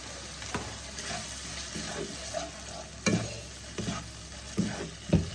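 Sauces and masala sauté in a pan for black chickpea ghugni, the spoon scraping and stirring in irregular strokes over a soft, steady sizzle, heard close without any talk.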